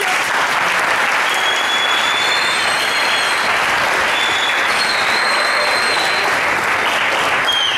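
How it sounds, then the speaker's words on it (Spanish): Loud, dense applause fills a room at a Christmas dinner for a sports league, a steady wash of many hands clapping throughout with no pauses. "¡Aplausos!"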